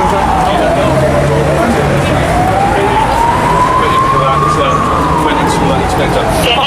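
An ambulance siren wails in one long, slow rise and fall over dense, steady background noise, sounding loud and close throughout.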